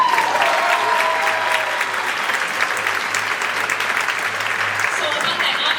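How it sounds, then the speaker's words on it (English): Sustained audience applause at a school spring band concert, dense steady clapping from a crowd lasting the whole stretch, loud and even with a few voices mixed in. "Can we get a quick round of applause for Mr. Stasko for helping us?"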